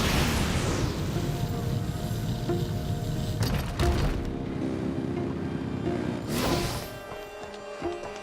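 Engines rev in the video game Genshin Impact as a loud, continuous roaring rumble with sudden bursts, then the roar falls away toward the end.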